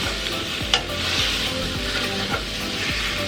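Sausage fries with a loud, continuous sizzle, close up, while a Pampered Chef tool repeatedly scrapes and grinds it apart against the pan, with a couple of sharper clicks over the hiss.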